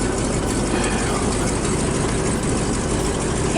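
A 1979 Chevy Cheyenne 20 Camper Special pickup idles with a steady, deep, even rumble throughout, close and continuous with no talking over it.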